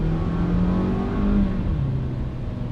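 A 2015 Hyundai Sonata's four-cylinder engine strains at full throttle, a steady droning rev heard from inside the cabin, rising slightly in pitch.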